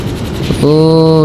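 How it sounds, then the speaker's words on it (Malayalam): In an underwater-themed video game, a helicopter starts with choppy rattling and then settles into a loud, steady droning whine up close. No one talks. "എനിക്ക് ഈ ഹെലികോപ്റ്റർ ഓടിക്കാനാണ് പറ്റാത്ത"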